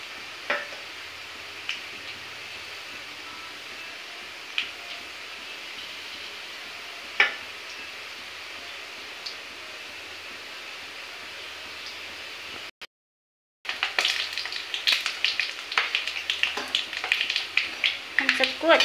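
Boondi, drops of gram flour batter, fry in hot oil with a steady close sizzle and occasional sharp ticks. After a brief silent gap, a louder, busier crackle of fresh batter hitting the oil follows.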